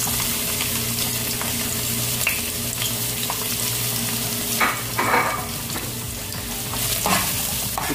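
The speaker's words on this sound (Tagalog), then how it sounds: "Lagyan na natin ang ating bawang" Garlic sizzles steadily in hot oil reused from frying tinapa (smoked fish), with a few louder bursts and stirring scrapes in the pan, close up and without talk.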